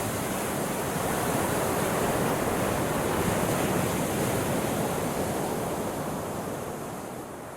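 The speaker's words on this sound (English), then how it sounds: "The waves are coming up 4 or 5 feet over where you're standing" Ocean waves surge over rocks at Whatipu, a steady, loud, broad roar of churning surf and spray that holds for several seconds before easing slightly at the end, with no voices.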